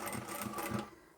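Sewing machine back stitching a seam on a scrap-fabric glasses pouch, a quick close rhythmic chatter of three or four stitch pulses that stops near the end.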